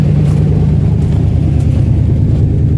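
An old yellow truck engine that runs rough and smokes rumbles loudly and steadily up close, a dense low drone with only slight rises in pitch.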